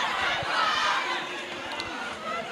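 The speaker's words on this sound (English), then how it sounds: "Catherine's name is being chanted by the crowd right now." Arena crowd at a fight night chanting a fighter's name, a distant, reverberant roar of many voices rising and falling under faint commentary.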